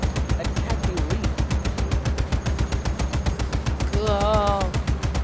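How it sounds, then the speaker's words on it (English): Rapid machine gun fire from the video game Just Cause 3, a steady stream of evenly spaced sharp bursts throughout, loud and close, with a vehicle-like tone and some talk mixed in. "I was like using a machine gun while somebody else is driving."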